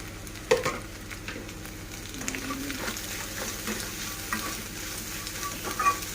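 Carrot, egg and fenugreek rice with spices gets stirred in a hot pan, a spoon scraping and tossing with soft, irregular clinks over a constant low sizzle, close up with no talking.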